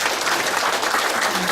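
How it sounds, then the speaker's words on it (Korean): A large audience applauds at a graduation ceremony for a residents' self-governance training course in Goyang, with dense, continuous clapping that stays loud and steady throughout. "다시 한번 큰 박수 부탁드리겠습니다"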